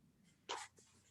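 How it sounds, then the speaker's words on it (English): A dog nearby gives a short, sharp sneeze-like snort, a single burst of about a quarter second over faint room hum. "Sorry about the dog noise."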